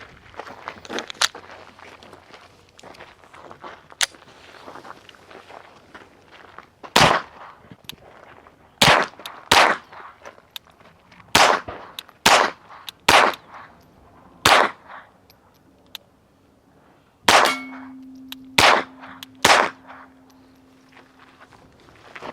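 Suppressed gunshots through a pre-production Shadow Silencers Duo Mini suppressor, about a dozen sharp, loud reports spaced irregularly over twenty seconds, with a tonal ring near the end.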